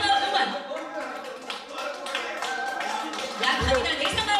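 A village team at a community association general meeting cheers and claps, a loose patter of applause and shouting voices that swells again near the end.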